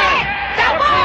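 Supporters at a boxing event roar and shout in a dense, loud burst of crowd noise lasting about a second.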